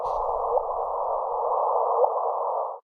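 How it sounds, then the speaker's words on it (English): A sonified space recording of two black holes colliding, a steady mid-pitched buzzing tone holding for nearly three seconds with slight pitch chirps, then cutting off abruptly. "this is what it sounds like when two black holes collide with each other"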